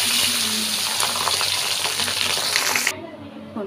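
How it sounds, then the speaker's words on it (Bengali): Fish frying in hot oil for a Bengali fish curry crackles and sizzles steadily, loud and close, before cutting off suddenly to near quiet. "এবার এই একই তেলের মধ্যে আমি আরও দুটো মাছ ঠিক ওইভাবে ভেজে নেব।"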